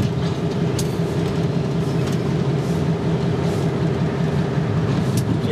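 A railroad tank car carrying crude oil rumbles and grinds steadily along the track, loud and continuous, with occasional metallic squeaks and clanks over the heavy noise.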